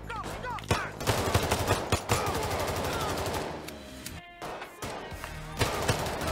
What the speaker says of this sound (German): Hier wird viel geschossen.